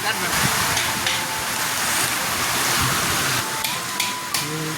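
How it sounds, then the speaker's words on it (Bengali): Steady heavy rain hisses throughout a storm with wind, with a faint voice talking under it. "আর একটু বৃষ্টি হচ্ছে কি পরিমাণ"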